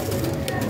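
Pigeons in a loft or gallery cooing softly, a steady low murmur of several birds close by with no talk over it.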